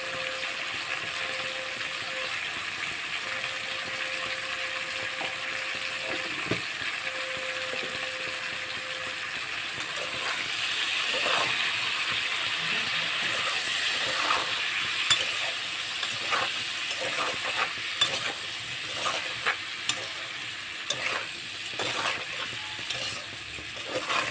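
Spices for a Bengali fish curry with potato and eggplant sizzle and sauté in a pan, a steady frying hiss with scraping stir clicks that grow busier and louder in the second half, no talking.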